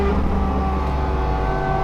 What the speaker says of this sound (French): le son quand on rétrograde